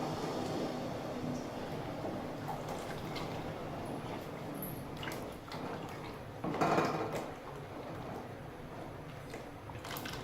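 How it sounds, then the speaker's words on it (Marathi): Wheat starch paste for kurdai is stirred into a pot of boiling water on a gas flame at home, a continuous bubbling, scraping churn with a brief louder clatter midway. "आता त्यामध्ये थोडं थोडं चिक टाकायचं आहे आणि एकसारखं हलवत राहायचंय."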